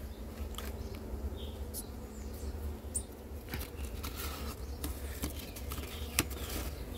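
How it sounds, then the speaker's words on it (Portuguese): Stingless bees buzz steadily at a hive box in a meliponary, a continuous close hum with a low drone and occasional faint ticks and taps over the full stretch. "Que abelha linda."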